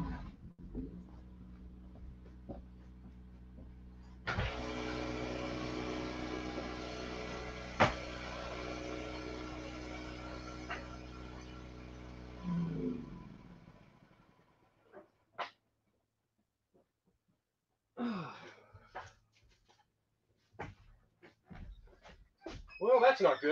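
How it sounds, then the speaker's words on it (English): A generator at a remote Alaska cabin runs with a steady droning hum, then surges loudly for several seconds before cutting out abruptly after blowing, leaving near silence broken by a few scattered clicks and knocks. "Oh, I'm hearing noise from the generator."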